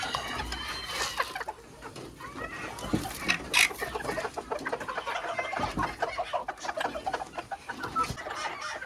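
Golden Sebright chickens cluck and chatter close by in a busy run, with repeated short calls overlapping at a moderate level.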